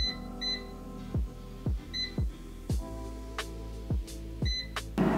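An air fryer beeping as it is set to bake cauliflower at 200 degrees for 18 minutes: a series of short, bright electronic beeps, each paired with a soft button-press thud, close and clear.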